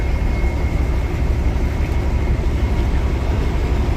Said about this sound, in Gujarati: આ બોટ ચાલુ થઈ ગઈ જવામાં